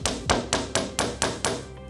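Six crisp, closely spaced blows from a chasing hammer flatten the end of a jewelry wire into a paddle, each ringing briefly on a hard surface, near and alone without speech.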